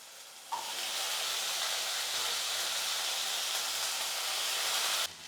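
Broad beans with onion and tomato sautéing in a pan for a home-cooked kuzhambu lunch, a steady loud sizzle and hiss that holds evenly throughout before cutting off.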